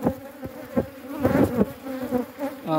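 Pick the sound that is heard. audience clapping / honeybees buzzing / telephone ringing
honeybees buzzing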